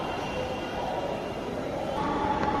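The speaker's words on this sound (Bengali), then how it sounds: "আমাদের মতিঝিলগামী যে পরবর্তী ট্রেন সেটি ইতিমধ্যে এসে পৌঁছেছে" Low rumbling drone of a Dhaka Metro Rail train bound for Motijheel pulling into a station, a continuous mechanical hum with faint squeals, no voices.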